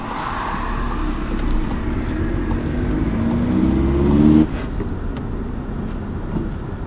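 Car engine hum and road noise from inside a car on a driving-test practice run, steady throughout, with the engine note briefly rising before easing off.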